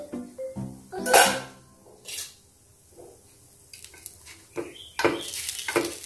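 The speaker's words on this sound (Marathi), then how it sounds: "आता झाकण खोलून पाहू आपण" Lid lifted off an appe pan holding potato and rava appe: a few sharp metallic clinks and one louder clatter ring out against a quiet kitchen background, followed by scattered softer clanks.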